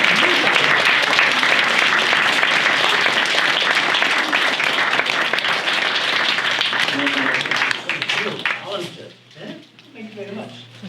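An assembly audience gives sustained, fairly close applause that carries on for about eight seconds before tapering off, with a voice speaking as the clapping dies away.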